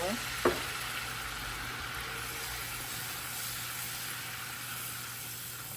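Flour cooking in melted butter in a pan for a homemade cheddar sauce gives a soft, steady sizzle that stays faint and even throughout, with a single light knock near the start and no voices.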